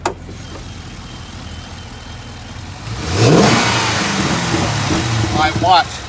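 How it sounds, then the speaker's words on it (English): A nearby Chevy SS sedan engine with a cold air intake idles, then revs up sharply into a loud roar and holds high, with a voice speaking briefly over it. "Rev it up."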